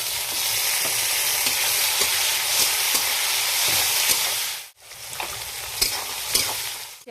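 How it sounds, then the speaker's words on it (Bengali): Chopped tomato hits fried onions in a hot pan for a Bengali rohu fish curry, giving a loud, steady sizzle with scraping stirs throughout and a brief pause near the end before the frying resumes. "এখন আমি দিয়ে দেবো ওর মধ্যে কুচনো টমেটো,"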